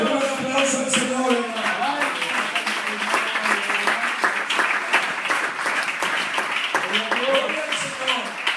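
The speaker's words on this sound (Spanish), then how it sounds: "aplauso al Señor." A church congregation claps for the Lord during a Spanish-language sermon, a sustained round of applause under singing or shouted praise voices that continue across the whole stretch.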